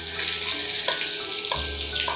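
Sliced onions drop into a pan of hot oil, giving a loud, continuous sizzle and hiss with small crackling bursts throughout.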